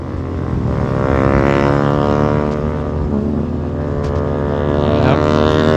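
A Ford F350 pickup with a loud aftermarket exhaust droning steadily at close range as it drives on a slippery road, a deep continuous rumble with no speech over it.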